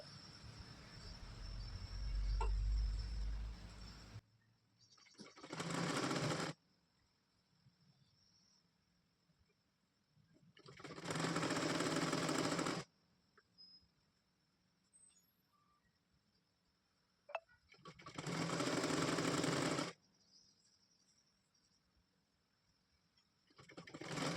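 A sewing machine stitches fabric for a homemade hair scrunchie, running in three steady bursts of a few seconds each, separated by quiet pauses with faint background hum.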